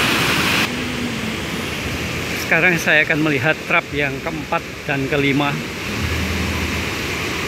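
Steady broadband rush of the Watu Purbo waterfall and its water spray fills the background, constant and moderately loud, while someone speaks over it in the middle portion.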